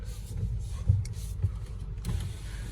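A Dodge Durango SRT engine several blocks away, heard as a faint, low, uneven rumble with a couple of soft swells under steady outdoor background noise.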